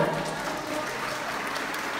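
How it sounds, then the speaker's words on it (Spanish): Applause at a kindergarten graduation ceremony, a brief, steady patter of many hands clapping at moderate loudness, continuous and even across the short stretch with no voices on top. "Lo recibimos con un fuerte aplauso"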